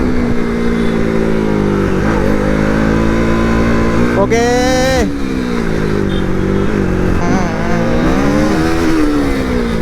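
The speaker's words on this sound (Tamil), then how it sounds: "நான் ரொம்ப ரைஸ் பண்ணி ஓட்டுறதுக்கு காரணம்னா எனக்கு கேட்குதான மைக்கு" Kawasaki ZX10R sport bike roaring close by as it revs and accelerates, its pitch climbing sharply in one burst and then falling, with someone talking over the engine noise.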